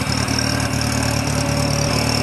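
A Satoh S650g tractor engine idles close by with a steady, even rumble that stays level throughout, with no voices over it.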